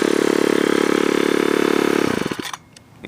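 A Ryobi S430 four-stroke string trimmer idling with a rapid, buzzy putter that runs steadily for about two seconds, then stutters, sputters and dies away into quiet.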